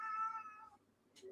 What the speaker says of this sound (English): You can hear them meowing.